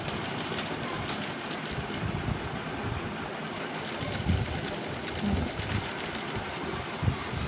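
A sewing machine runs continuously, stitching a fall onto a saree decorated with small stones, a steady fast mechanical whir held at an even level throughout with no talking.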